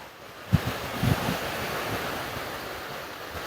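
Surf at Cha-Am beach, a long beach with clear green seawater and many swimmers, makes a steady broad wash of waves under constant wind noise, with a couple of soft low thumps near the start.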